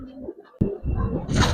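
Pigeons in an Old Dhaka loft, including silver Giribaz birds, give short low coos close by, broken by a sharp click and a rising rustle near the end.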